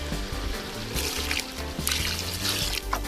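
Water is poured steadily into a cooking pot outdoors in the Jamaican bush, giving a continuous trickling splash with a low rumbling tone beneath it.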